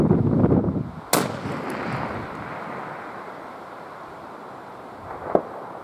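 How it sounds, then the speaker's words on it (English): A rifle fires once at a long-range shooting session, a sharp loud crack that trails into a long fading rumble, with a faint distant thump of the round striking a few seconds later over light wind. "Send it. Got it. Nice shot, Jess."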